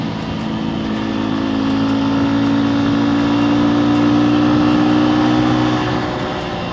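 A Rusi KRY 200 trail motorcycle on its stock exhaust drones steadily and close by, the engine note holding even with a slight swell near the middle.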